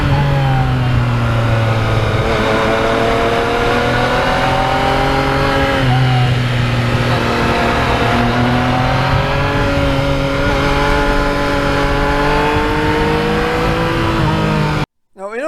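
A Yamaha MT-09 motorcycle with stock exhaust drones steadily throughout with a low, even tone and mild pitch rises, fairly mellow rather than loud, ending abruptly.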